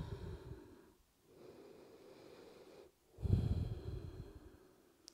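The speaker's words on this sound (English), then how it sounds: "So deep breath." Slow deep breathing during a yoga stretch for shoulders and neck: a long audible inhale, a pause, then a fuller, louder exhale, close and alone with no talking.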